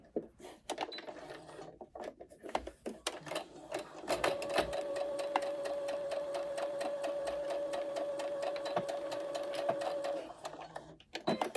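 A home sewing machine stitching a pocket bag runs in short starts, then in one steady whirring run of several seconds, with clicks and handling noises before and after.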